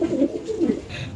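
Pigeons cooing at a pigeon farm among fancy breeds such as grizzles, a few soft low coos close by, lasting only about a second.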